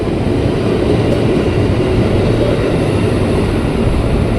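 A Bogor-bound KRL commuter train with a short eight-car, four-plus-four formation rumbles loudly and steadily at a station platform on track 12, a close, continuous low roar with no voices.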